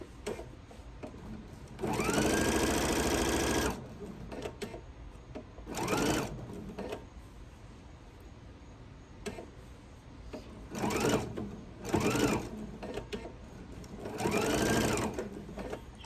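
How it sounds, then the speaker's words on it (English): Sewing machine stitching through a quilted Noel tree skirt in loud running bursts of about two seconds each, separated by pauses with quieter handling noise. "I'm going to sew all the way to where I started my stitches"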